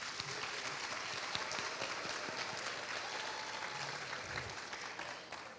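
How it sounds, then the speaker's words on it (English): An audience bursts into sustained applause for the Teachers of the Year at a school district ceremony, a dense, steady wash of clapping that holds for several seconds before tapering slightly at the end. "Can we give them a round of applause?"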